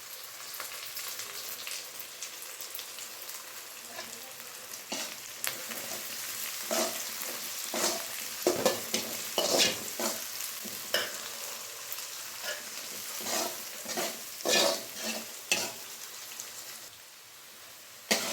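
Onions fry in oil in a pan for a tomato gojju, giving a continuous close sizzle broken by repeated scraping stir strokes. No one speaks.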